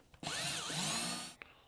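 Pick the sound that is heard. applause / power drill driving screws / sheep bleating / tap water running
power drill driving screws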